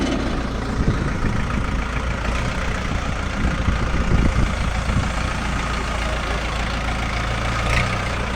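A Jinma 404 tractor, a 40-horsepower Chinese diesel with live hydraulics, idles steadily and close by, a continuous low rumbling drone with no voices over it.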